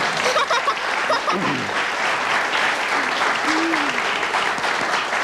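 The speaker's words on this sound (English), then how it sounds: "Thank you for clapping" Studio audience at a television talk show clapping steadily, a dense even wash of applause lasting several seconds with a brief voice heard underneath.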